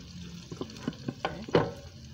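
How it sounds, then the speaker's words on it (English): Chicken fries in a small cast iron skillet with a low background sizzle, broken by several soft clicks and taps as pieces are moved around, and one louder scrape near the end. "And I just do 3 at a time in my little cast iron skillet."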